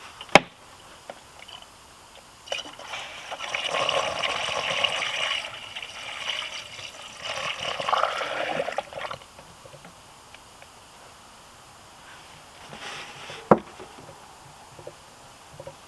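Coolant is poured into the radiator of a Jaguar X-Type, giving a soft, steady trickle and gurgle for several seconds, framed by a few sharp knocks and clinks of handling.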